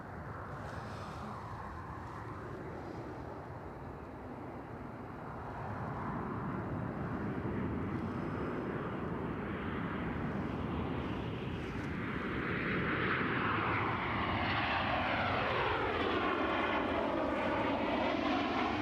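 A Ryanair airliner from Berlin comes in to land at Edinburgh Airport, its engine roar swelling from a distant rumble to a loud, close whine and rushing drone as it passes overhead.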